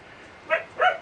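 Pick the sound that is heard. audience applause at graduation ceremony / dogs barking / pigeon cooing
dogs barking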